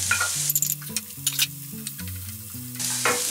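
Onions and garlic fry in a pan with a close, bright sizzle, joined by a few sliding scrapes of a utensil and a low tonal hum running underneath.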